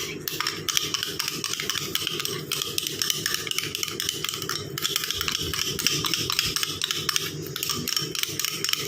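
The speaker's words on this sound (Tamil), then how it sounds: "நல்லா மிக்ஸ் பண்ணிக்கோங்க" Homemade aloe vera gel cream is stirred briskly in a bowl, giving continuous, close, rhythmic scraping and rubbing that lasts throughout.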